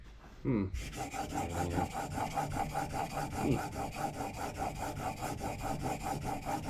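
A planer blade is sharpened on a sharpening stone with steady, rapid back-and-forth rasping strokes. The even rhythm repeats close up throughout, after a brief soft thump at the start.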